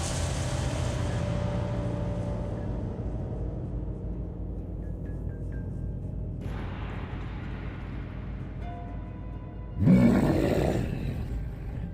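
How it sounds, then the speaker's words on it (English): An earth elemental arriving, played as a sound effect: a low, rumbling drone builds for several seconds, then a heavy, gritty roar bursts in near the end and trails off. "that's the sound of Earth Elemental arriving"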